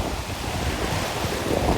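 Ocean surf rolls onto a beach in a steady, broadband wash with wind buffeting the microphone throughout and no one speaking.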